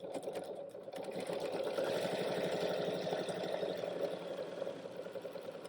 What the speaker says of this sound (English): We're just going to sew these 2 rows together.